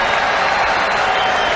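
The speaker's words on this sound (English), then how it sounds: "deliver a smattering of applause to both superstars and their performances" Football stadium crowd applauding during a Celtic versus Manchester City match, a steady dense wash of distant clapping and crowd noise filling the whole moment without pauses.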